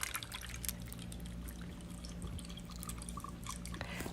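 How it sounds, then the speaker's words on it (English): Ginger pineapple lemonade with small pineapple pieces and ice pours into a pitcher, a steady liquid trickle and drip running close and continuous over a low background hum. "I am ready to pour the lemonade"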